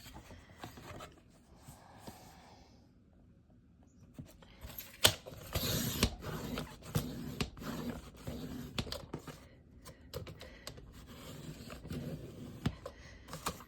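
Paper being cut for a handmade junk journal, a run of scraping, rasping strokes and small clicks from a cutter or trimmer, close and moderately loud, with busy handling noise between passes and no talking.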